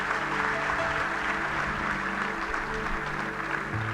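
A hall audience gives steady, sustained applause as a birthday greeting during a gratitude speech at a coaching academy event, the clapping even and continuous over a low background hum.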